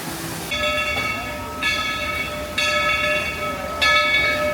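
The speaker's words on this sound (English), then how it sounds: "Train's on its way back." The Dollywood train rolls past close by, a rumbling rail clatter broken by three or four bright, tonal bursts that repeat at roughly one-second intervals and grow slightly louder toward the end.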